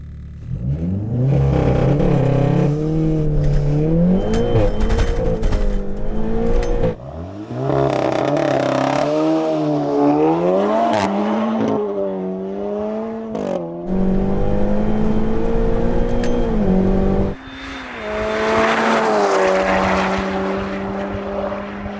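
A modified car launches on a quarter-mile drag run with wheel spin, its engine revving hard through several rising gear pulls, each climbing pitch cut by a brief shift dip, loud and close throughout.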